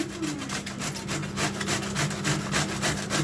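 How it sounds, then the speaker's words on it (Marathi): Cabbage rubbed across the coarse side of a grater in steady, rapid back-and-forth strokes, close and fairly loud, with no talking. "हे असं किसून घ्यायचा जाडसर आहे ना"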